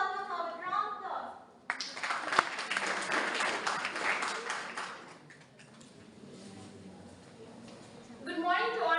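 An audience at a school English elocution competition breaks into sustained applause, clapping continuously for several seconds, with a voice speaking just before and just after.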